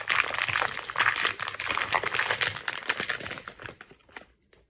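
Crunchy chewing of a salami and cheese snack, close up, a dense run of crisp crackling bites that thins out and fades to quiet near the end.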